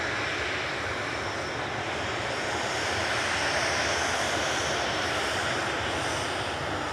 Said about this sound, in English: Departing now, though, is GEZTK for EasyJet flight 2125 to Naples.